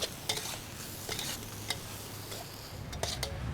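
Sukiyaki with mung bean noodles being stirred in a pan, with a low sizzle underneath and a few sharp scrapes and taps of the utensil against the pan, close and clear, with no talking.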